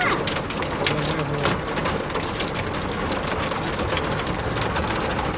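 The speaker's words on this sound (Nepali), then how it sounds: "कत्रो ठुलो असिना पानी पर्यो हौ" Heavy rain with hailstones pelting down, a dense, loud, continuous roar of impacts on surfaces with no letup.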